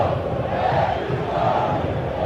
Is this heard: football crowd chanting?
yes